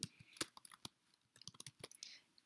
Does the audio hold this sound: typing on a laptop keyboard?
yes